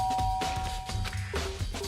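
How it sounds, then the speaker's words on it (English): A doorbell chime rings once inside the Yakuza 3 Remastered video game, a clear sustained ding tone over background game ambience and music. "I pressed the doorbell."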